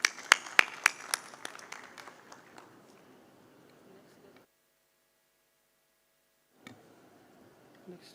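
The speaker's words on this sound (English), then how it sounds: "I would like to request you to please give them a round of applause." Scattered, sparse clapping at a conference session, a few sharp distinct claps near the start thinning into faint patter, then a gap of near silence before a soft rustle returns.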